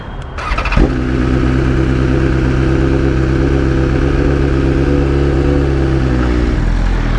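A motorcycle set to race pro mode catches with a short burst, then settles into a loud, steady, close engine drone with a strong, even hum that holds without a break. No one speaks.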